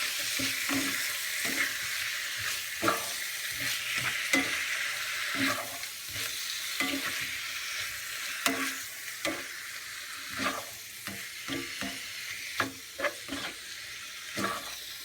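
Seasoned beef tips, salted and peppered, stirred in a pan with spoon scrapes and clacks at an uneven rhythm over a steady soft sizzle, close and moderately quiet.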